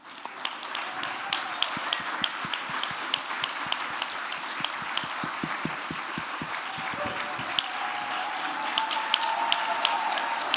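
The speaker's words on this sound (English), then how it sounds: "let us give you a round of applause" An audience at an evening awards ceremony applauds judges and medical and science experts as they stand, with sustained, dense clapping lasting about ten seconds and steady in loudness throughout.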